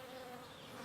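Honeybees buzzing in a steady, faint, continuous drone with no other sounds.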